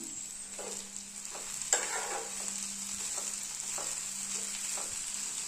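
Ivy gourd (kovakkai) frying in a pan with chilli powder, a steady close sizzle broken by repeated scraping stirs of a spoon against the pan, no voices.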